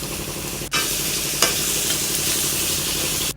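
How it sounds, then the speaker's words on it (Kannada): Garlic, chili powder, onion and capsicum fry in a pan with a steady, dense sizzle, broken by a brief stir near the start and a light scrape partway through, with no talking. "ಇದು ಚೆನ್ನಾಗಿ ಬ್ರೌನ್ ಕಲರ್ ಬರೋವರೆಗೂ ಫ್ರೈ ಮಾಡ್ಕೊಳ್ಳಿ"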